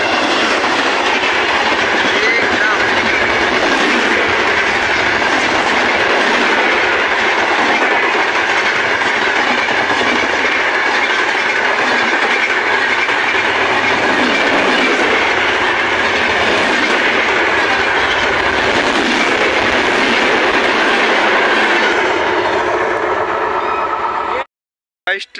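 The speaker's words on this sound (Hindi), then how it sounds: "इस ट्रेन तो चली गई है" A train passing along a long straight railway line toward evening, loud and close with a steady rumbling roar and clickety-clack of wheels over the rails that holds throughout, then cuts off abruptly at the end.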